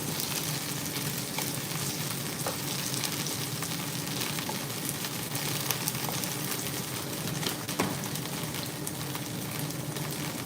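Dumplings fry in avocado oil, giving a steady bright sizzle and crackle with occasional pops, close and continuous with no talking.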